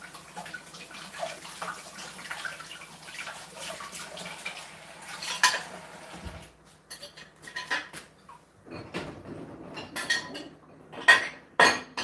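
Dishes and cutlery clink and clatter under a running tap as water splashes and rinses them, with the flow steady at first and then broken by intermittent knocks and clinks.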